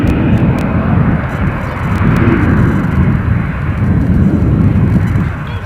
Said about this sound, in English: So let's get ready for our incoming British Airways A320.